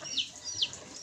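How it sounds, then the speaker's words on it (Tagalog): Farm chickens left behind in a Philippine farmyard, making faint, repeated high calls and clucks about three times within a second, alone with no talk. "yung natirang manok"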